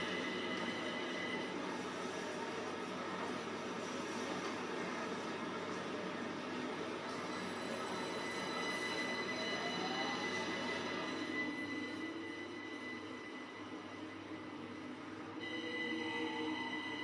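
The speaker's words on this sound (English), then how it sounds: "He's leaving now, that train." A train in Train Sim World 5 on the London to Brighton route pulls away from a station, a steady rolling rumble with wheel squeal and tonal whine running throughout, close and continuous for the whole stretch.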